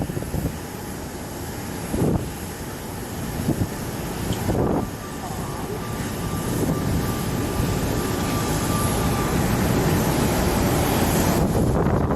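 A Boeing 737-800 airliner passes at Phoenix Sky Harbor International Airport at night, its jet roar swelling into a loud, steady rush under wind buffeting on the microphone.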